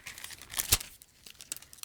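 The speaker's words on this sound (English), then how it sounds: "This is probably making a lot of crinkling noise because I have my mic right here" Plastic packaging from a Tula mask crinkles right next to the microphone, a brief, close burst of crisp rustling with one sharp crackle, then quieter scattered rustles.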